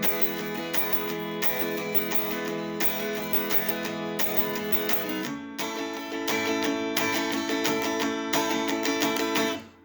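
An acoustic guitar with a makeshift pen capo strums the chords of a song, dense and ringing in a steady rhythm, close and fairly loud, with a brief break midway.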